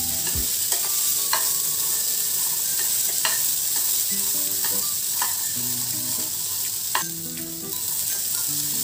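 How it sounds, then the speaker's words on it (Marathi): Chickpeas sautéing in a pan sizzle steadily throughout, with a spoon or spatula scraping and stirring at irregular intervals, close and fairly loud with no voices. "एक साधारण 2 मिनिटे आपण हे चणे परतून घेणार आहोत."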